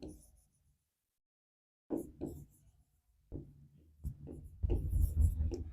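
Handwriting during a Class 6 environmental studies lesson: short scratchy pen strokes in a few separate bursts, with quiet pauses between them and a louder, denser run of writing at the end.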